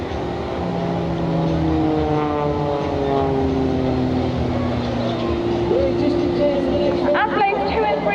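Blades aerobatic display team propeller aircraft fly at full speed in a crossing manoeuvre, a steady loud engine drone with sweeping pitch changes as planes pass, a commentator talking over it throughout.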